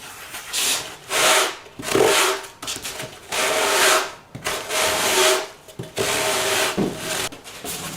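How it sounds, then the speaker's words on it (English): Rhythmic scratchy rubbing of 50-grit sandpaper on a round sanding block against wood, several long back-and-forth strokes with short pauses between them, close and fairly loud. "Makes for a nice round sanding block."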